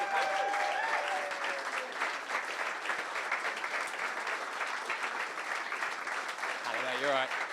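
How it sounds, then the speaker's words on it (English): Sustained audience applause at a community sports team celebration event, steady dense clapping throughout with cheers and a voice calling out briefly near the end. "Keep the applause going, guys, if you can"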